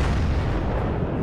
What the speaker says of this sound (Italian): Dai, spariamo, non aspettiamo tutti i cannoni, dai.